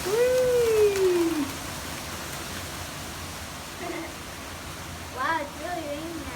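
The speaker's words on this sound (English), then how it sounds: "Wow, it's really raining out here." Heavy rain during Hurricane Irma makes a steady, dense hiss throughout. A short whooping vocal tone rises and falls near the start, and brief voices break in toward the end.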